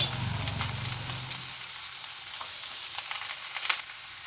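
Chopped banana stem goes into a pan of frying onions, giving a loud hiss that settles into a quieter, steady sizzle with scattered scraping and tapping of a spoon stirring close by.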